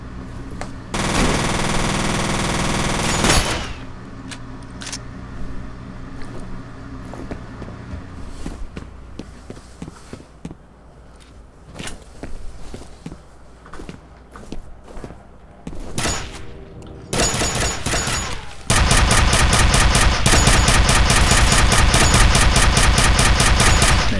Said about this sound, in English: You just missed like almost every one of those shots as I just unloaded into you.